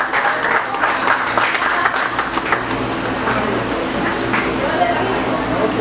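Steady applause from a crowd fills the whole stretch, dense clapping with a voice occasionally rising over it.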